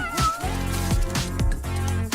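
A cat meows several times up close, loud drawn-out cries running one after another with no voices over them.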